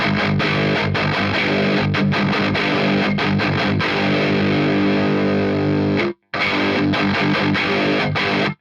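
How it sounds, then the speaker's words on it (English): Heavily distorted electric guitar chugging through a Mesa Dual Rectifier amp, tight palm-muted rhythm riffs played loud and continuous, with one brief silent break near the end. "I like to play around with chugging"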